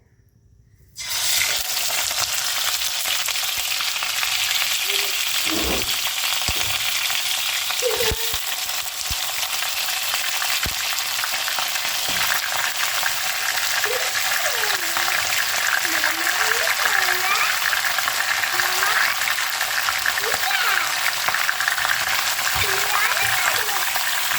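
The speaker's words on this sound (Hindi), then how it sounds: "हमारा ऑयल गर्म हो गया, इसमें अब हम अपना चिकन ऐड करेंगे" Chicken pieces fry in hot oil in a karhai for tandoori chicken karhai, a loud, close, continuous sizzle that starts abruptly and holds steady, with occasional clinks and stirring sounds and no voices.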